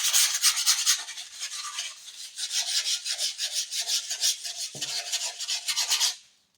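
Abrasive rasping as the edge of skateboard grip tape is ground down against the deck, a close, rhythmic scratchy rubbing that runs in quick strokes, then stops abruptly.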